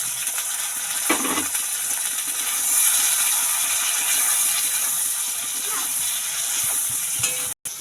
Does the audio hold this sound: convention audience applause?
no